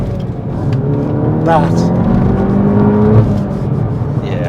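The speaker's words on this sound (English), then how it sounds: "First to second, high up in the revs, a lot of throttle, and it just goes" A 2026 VW GTI Edition 50 accelerates hard from first into second gear, revving high under heavy throttle. Its engine note climbs loud and close over a rumbling cabin drone, with someone talking briefly.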